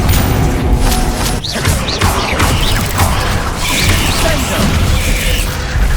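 Heavy booming blasts and crashing impacts from Confringo fire curses in a Hogwarts Legacy battle, loud and continuous across the scene, mixed with other spell clashes and a voice calling out spells.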